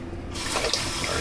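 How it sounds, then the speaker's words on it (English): Hot water runs from a tap into a sink during a wet shave, a steady close rushing splash that swells after a brief quieter start. "I need more hot water."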